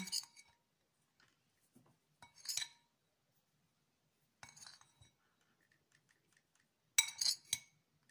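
A spoon clinks and taps against a hard container while scrapbooking glue is mixed for a personalised Christmas bauble, in several short, bright bursts separated by quiet pauses.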